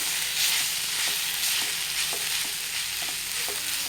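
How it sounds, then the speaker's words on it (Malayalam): Drumstick flower thoran stirred in a hot pan, a continuous close sizzle with soft, regular scrapes of a spoon moving the mix and no voices. "നമുക്ക് ഈ തോരൻ ഇളക്കി കൊടുക്കണം."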